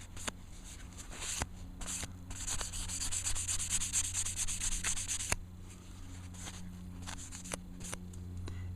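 A fingernail scrapes off oily adhesive residue in close, continuous scratchy rubbing strokes that grow louder and denser in the middle, then ease back to lighter scraping.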